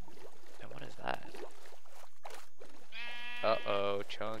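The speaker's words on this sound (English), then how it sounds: "We got a sheep." Sheep in the video game Minecraft bleat in a few short, clear cries, with a louder pair near the end, while a person talks between them.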